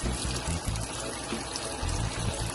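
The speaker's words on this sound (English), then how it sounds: "So now we're gonna add the last cup of water." Water pours steadily into a cooking pot of Jamaican oxtail, a close, continuous splashing gush with no talking.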